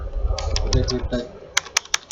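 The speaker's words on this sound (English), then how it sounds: "Let me type" Typing on a computer keyboard during Java programming: a brief run of keystrokes under background murmur, then four crisp separate clicks, close and clear.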